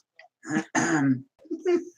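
A few throat-clearing coughs close up, short harsh bursts separated by brief pauses, with no other sound around them.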